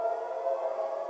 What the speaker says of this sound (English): air raid sirens rang out across Tel Aviv, a familiar sound